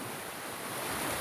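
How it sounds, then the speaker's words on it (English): Water rushes down a mountain stream in a steady, dense, broad wash that holds constant throughout, close and fairly loud with no voices. "the water coming down this mountain stream"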